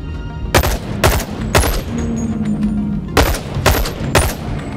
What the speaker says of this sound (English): you definitely want to shoot this thing two-handed instead of one-handed